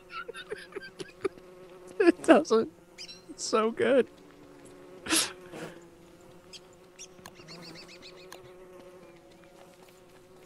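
Bees buzz while attacking seeds in a video game, a thin electronic drone under lively game music and chirpy effects, with a person talking briefly.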